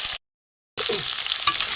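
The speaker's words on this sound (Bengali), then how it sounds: "ভালো করে ভেজে নেব।" Papaya, potato and green banana sizzle in oil in a pan, with a short burst of frying, a brief silent gap, then steady close crackling resuming.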